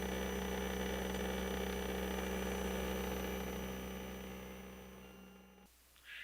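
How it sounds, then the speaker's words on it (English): A CNC machine shaves a few thousandths of an inch off the top of an aluminum microphone flag, a continuous loud mechanical drone with steady tonal hum that fades near the end and cuts off abruptly. "by shaving a few thousandths of an inch off the top. And that is what we are watching now."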